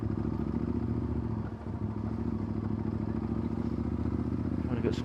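Motorcycle riding over a cobblestone road, a steady mid-pitched engine drone with rattling and faint clattering from the uneven surface, heard close and continuous with a brief dip partway through.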